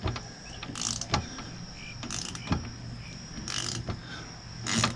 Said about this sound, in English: take your socket, your 17 millimeter socket, rotate the motor counterclockwise